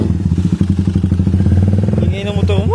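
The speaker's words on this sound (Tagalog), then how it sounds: "Ingay ng motor mo." A Honda Click scooter engine idles loud and close with a steady pulsing putter, a brief rev lifting its pitch near the end while a voice talks over it.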